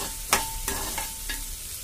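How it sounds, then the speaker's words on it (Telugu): Onions and green chillies with a pinch of salt frying in a pan, making a curry to go with carrot rice; a quiet steady sizzle with a few sharp scrapes from stirring, close and alone. "ఆనియన్స్ని ఫ్రై చేసుకుందాం"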